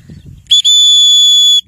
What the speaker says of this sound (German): Es kommt der Pfiff.